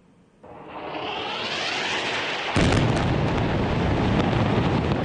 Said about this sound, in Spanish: Un misil impacta de lleno en el hogar de una familia palestina que está cenando